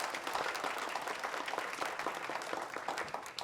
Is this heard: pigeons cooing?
no